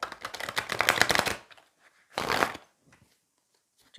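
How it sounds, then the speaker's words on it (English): Tarot cards being shuffled close to the microphone in two crisp, rapid riffling bursts, a longer one followed by a short one, with quiet pauses between. "Just want to shuffle these again."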